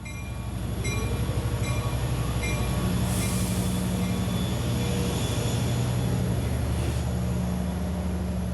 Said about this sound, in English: Locomotive 413 powers up, hauling Train 4 on towards Montauk